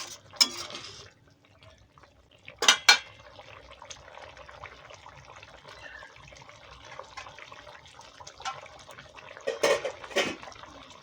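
Eggs go into a shahi egg korma sauce simmering in a pan, with soft liquid bubbling and dripping, a few clinks of utensil against the pan, and quiet stretches between, heard close with no talk.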